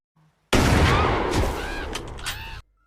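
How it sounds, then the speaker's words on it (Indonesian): A single loud gunshot in a film scene, fired by a homeowner hunting deer, bursts in sharply and rings out with a long, rumbling decay for about two seconds before cutting off. "terdengar suara tembakan yang membuat mereka takut"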